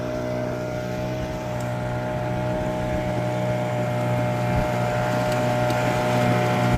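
A boat's engine drones steadily at sea, a continuous low rumble with some wind noise over the microphone.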